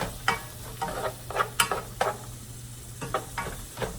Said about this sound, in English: go ahead and put them in your pan and start sauteing those up until they're like translucent or brown